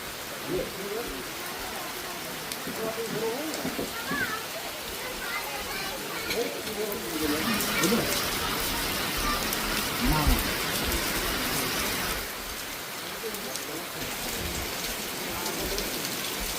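Steady rain pours across the Sundarbans mangrove forest, a dense, even hiss that swells slightly midway and holds throughout, with faint voices murmuring underneath.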